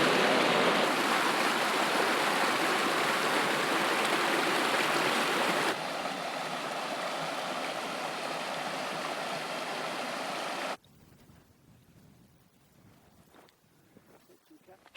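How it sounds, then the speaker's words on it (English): A mountain creek flows steadily in the Northern Ruby Mountains, giving a loud, broad rushing wash that drops a step partway through and then cuts to a much quieter outdoor scene. "Wow, it's a nice creek."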